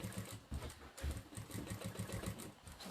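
A JACK A6F sewing machine runs free-motion quilting stitches down the side of a piece, a rapid, close mechanical chatter in uneven bursts that speed up and slow down, fairly quiet and with no talking.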